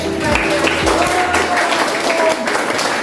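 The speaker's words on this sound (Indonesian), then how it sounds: "beri tepuk tangan untuk" A class of students claps during an Indonesian school biology lesson on cells. The clapping is moderately loud and mixed with students' voices and a few tonal calls over the applause.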